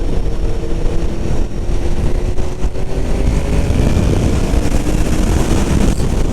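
A Honda VFR750 motorcycle ridden through fast sweeping bends, heard as a loud continuous engine drone heavily mixed with wind rush, with no speech.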